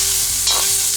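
Steak, green beans, garlic and chilies stir frying in a very hot wok over a strong flame, one brief loud burst of close sizzling and scraping with no voices.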